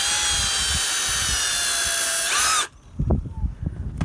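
A power drill drives a screw into a fascia board trim, its motor whining at a steady pitch for about two and a half seconds before cutting off abruptly, followed by a few faint knocks and handling noises.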